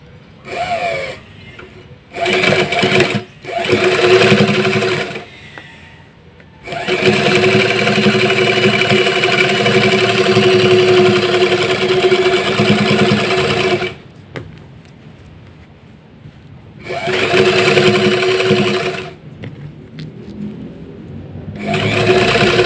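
A sewing machine stitches shorts fabric in several close, loud bursts of rapid whirring, one long run in the middle and shorter runs before and after, separated by pauses.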